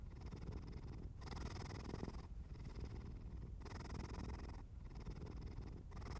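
A steady, close cat purr rolls on continuously in slow waves of breathing, soft and even with no other sounds.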